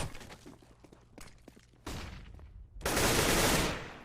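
Gunfire in the video game CS:GO on the de_mirage map: short tapped shots and bursts crack out in quick succession, then a louder sustained burst near the end, with no voices.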